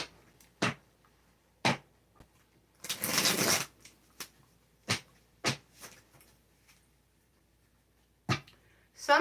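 Tarot cards being shuffled by hand, a handful of short, crisp riffling snaps spread out over time, with one longer, denser shuffle burst early on, close and otherwise quiet.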